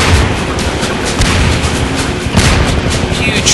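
A big explosion in Half-Life 2 booms out loud and rumbling, followed by a second heavy blast and crackling debris, with no voices over it.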